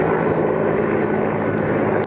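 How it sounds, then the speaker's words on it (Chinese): A helicopter hovers over the war zone near Bakhmut, Ukraine, its engine and rotors making a loud, steady low rumbling drone that continues without a break. "直升机盘旋"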